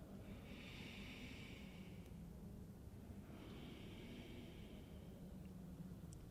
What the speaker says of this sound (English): Longer, deeper inhales and exhales through the nose,